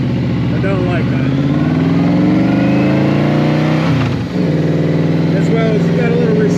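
A motorcycle engine drones steadily with a throaty exhaust, pitch rising and dipping slightly as it rides, loud and close with some wind rush.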